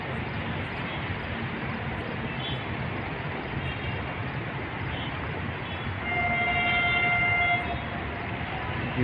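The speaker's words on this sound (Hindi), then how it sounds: "AGM30 का हॉर्न सुनाई दिया" A distant horn from an HGMU-30R diesel locomotive hauling the Shah Latif Express near Karachi sounds a sustained tone over a steady background rumble, fairly faint at first, then a longer blast near the end.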